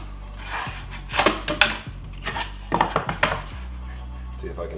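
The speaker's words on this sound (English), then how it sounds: "we're going to score all of our lines" A blade scores lines into a fresh oak kitchen countertop, giving several short scraping strokes and light knocks over a steady low hum nearby.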